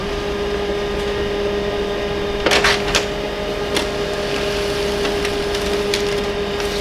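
A compact monochrome printer runs a full sheet, giving a steady mechanical hum with a constant whine, broken by a few sharp clacks and rattles as the paper feeds through.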